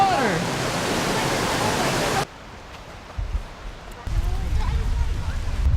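Waterfall water rushing in the New Hampshire woods, a loud, steady broadband roar that cuts out abruptly partway through, followed by quieter outdoor ambience and footsteps or handling noise.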